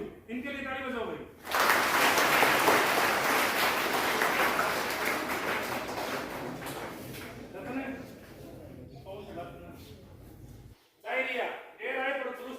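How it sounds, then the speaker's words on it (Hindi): Children in a classroom break into loud clapping for a classmate, a burst of applause that swells, holds for several seconds and then fades, with a teacher's voice speaking before and after. "इनके लिए ताली बजाओ भाई"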